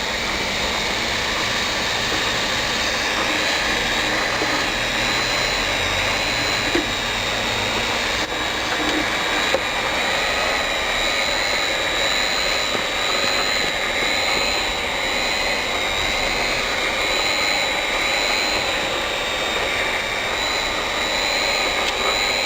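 A PVC welding machine running: a loud, constant mechanical whine and hum with steady tones, unbroken for the whole stretch, with no talk over it.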